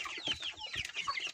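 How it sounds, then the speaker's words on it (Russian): Young chicks of the Livensky, Kotlyarevsky and Russian crested breeds in a new outdoor enclosure, giving a steady overlapping chorus of high peeps and chirps close by, with no talk. "Вот еще одни у нас цыплята переехали на улицу."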